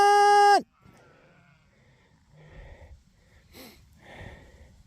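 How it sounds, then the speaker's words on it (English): Sheep on a farm bleat in one loud, harmonic call at the start, followed by quieter rustling and faint scattered animal sounds, with the flock waiting impatiently to be let out onto growing grass. "Hey, sheep, sheep, sheep, sheep, sheep, sheep, sheep, sheep."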